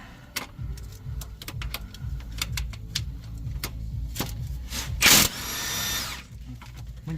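A power tool works loose the bolts on a Volvo VNL truck being scrapped, with short repeated whirring bursts and metallic clatter, then a longer, louder whine near the end.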